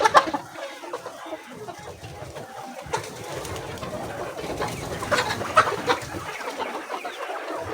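A flock of poultry-farm chickens clucks busily at feeding time, a dense, continuous chatter of many birds close by with scattered louder calls.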